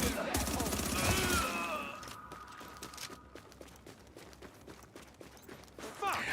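FAMAS rifle bursts rattle in The Division, a dense fusillade of rapid shots up front, then scattered sharper cracks continuing through the rest of the stretch.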